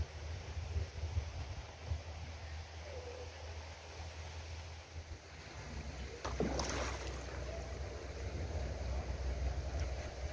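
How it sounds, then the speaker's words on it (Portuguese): Strong wind gusting over a fishing lake ahead of a coming rainstorm, a steady roaring rush buffeting the microphone for the whole stretch, with a brief sharper burst partway through and no talk. "Tá ventando, não dá pra me perceber, mas tá ventando bastante"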